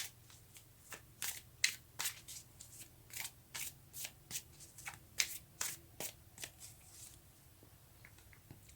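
Tarot cards being shuffled and drawn, a steady series of soft, close riffling and flicking sounds at a regular rhythm, quiet and alone.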